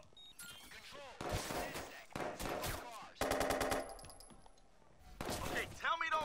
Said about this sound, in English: tell me those weren't gunshots